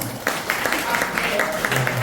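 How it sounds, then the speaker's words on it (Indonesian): A small crowd at a youth Christmas celebration claps in a quick, steady rhythm, close and moderately loud, with some voices mixed in. "Kasih tepuk tangan dong."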